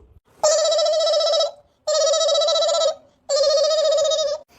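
A telephone rings three times in a row, each loud, buzzy trilling burst lasting over a second and separated by short silent gaps, heard close and alone.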